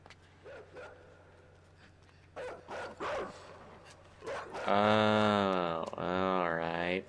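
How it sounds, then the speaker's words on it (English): A rabid dog in the video game INSIDE barks and whimpers while chasing, with scattered sharp yips early on, then a loud sustained whining howl that swells close and drowns everything else toward the end. "there's a rabid dog chasing me?"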